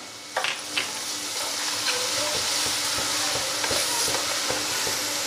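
Ginger garlic paste dropped into hot oil with asafoetida and onion in a pan, a loud steady sizzle and crackle with a few stirring clinks at the start, close and continuous.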